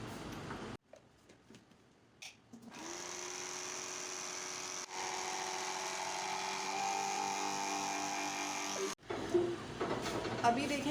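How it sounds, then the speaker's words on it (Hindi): A mixer grinder whirs as it blends eggless ice cream batter with malai, first with some clatter, then a steady high motor whine for several seconds that cuts off, followed by more handling noise. "और इसको जो है ग्राइंड करूँगी।"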